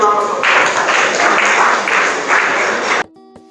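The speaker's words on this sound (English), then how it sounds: "I think he deserves a round of applause." An audience gives a round of applause for the Grammy Awards CEO at an event in Ghana, a dense, steady burst of clapping lasting about three seconds before dropping away abruptly.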